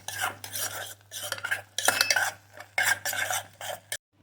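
A utensil stirs and scrapes through thick gongura and walnut chutney in a pan as salt is mixed in, in several short bursts, close by with no voices.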